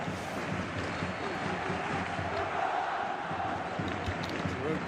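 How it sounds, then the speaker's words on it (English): A stadium crowd in the football game PES 2016 cheers and roars in a steady, continuous wash of noise, with a voice faintly audible underneath. "Crowd appreciates good football all round there."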